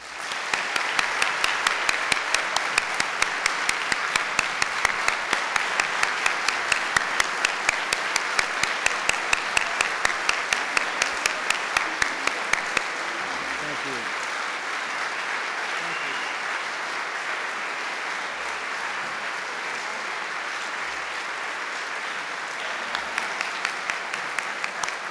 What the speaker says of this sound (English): So let us all robustly applaud that because we are all proudly Wabash men.